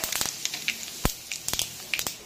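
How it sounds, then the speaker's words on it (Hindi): Cumin, fennel and mustard seeds hit hot oil in a kadhai and crackle with sharp, irregular pops and short sizzles, close and moderately quiet. "देखिए तेल गर्म हो गया, इसमें हम जीरा सौंफ और सरसों का फोरन डालेंगे।"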